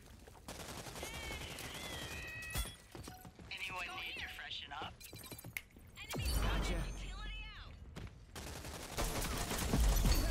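Gunfire in the Rogue Company shooter game, sharp rapid bursts and single cracks scattered through the whole stretch, mixed with impact and shattering noises, while a player talks over the action.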